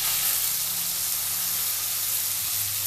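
Potatoes dropped into hot spiced oil tempering sizzle loudly, a continuous dense frying hiss that stays steady and close throughout.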